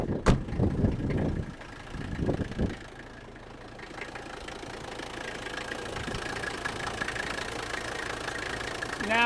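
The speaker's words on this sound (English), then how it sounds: "that's a very healthy noise in an OM 617 turbo diesel engine" An old Mercedes-Benz OM 617 turbo diesel engine idles with a steady, fairly loud clattering rumble after a couple of brief starting bursts.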